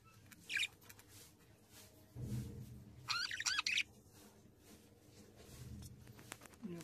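Pet cockatiels, including a yellow female, give short bursts of high chirps in a home, with faint fluttering and rustling between calls and brief low thumps.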